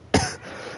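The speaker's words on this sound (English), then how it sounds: "I haven't been able to stop coughing since then." A video game character in a volcano setting gives a single short, close cough, sharp at the start and fading quickly.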